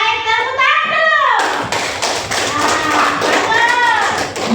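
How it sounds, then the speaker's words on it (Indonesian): Classroom of students clapping hands together, a dense patter of claps over steady room noise with children's voices and chatter mixed in throughout. "Oke, baik, tepuk tangan dulu."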